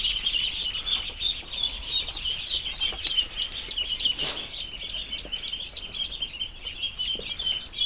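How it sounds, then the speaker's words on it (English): Muscovy ducks let out of their pen: a lively stream of high, repeated peeping chirps over a soft, rustling background, fairly close, with no talking. "Come on, ducks."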